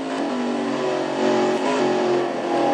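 Race car engine at Martinsville screaming at high revs during wheel spin, a steady loud harmonic whine with slight pitch wobbles, close and continuous without talk.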